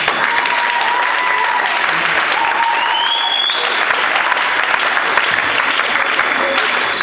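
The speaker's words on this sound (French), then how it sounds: "Quelqu'un acclame." An audience at a speech event gives sustained, loud applause, dense clapping continuing evenly throughout with a few faint cheers or whistles mixed in.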